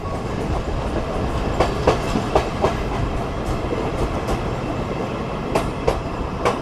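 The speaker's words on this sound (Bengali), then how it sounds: "সেজন্যই এবার যাত্রা করছি এই মোংলা কমিউটার ট্রেনে যশোর রেলওয়ে জংশন পর্যন্ত" Mongla Commuter train running on rails on the Benapole–Khulna line toward Jessore junction: a steady, loud carriage rumble with periodic wheel clicks over rail joints, heard from inside, with no talking.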